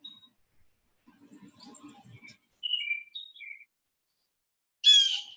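Scattered bird chirps and short tweets, a few thin calls spread across the quiet, ending with a brighter, louder burst of chirping near the end.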